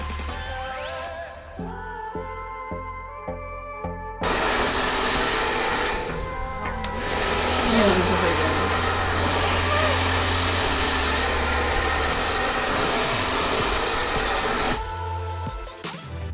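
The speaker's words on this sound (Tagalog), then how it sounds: "I-blow dry muna natin siya until ma-penetrate yung cream sa kanyang hair strand." A hair blow dryer runs steadily, drying hair after a keratin cream treatment at home, its loud constant whoosh lasting nearly the whole stretch before cutting off, with a few clicks and handling noises at the start and end.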